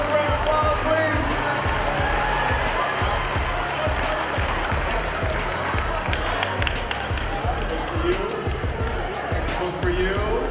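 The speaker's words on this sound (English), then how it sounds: "Can we give them both a round of applause, please?" Middle school students applaud and cheer during a motivational talk, a loud, continuous roar of clapping and crowd noise with thumping, stamping-like beats underneath throughout.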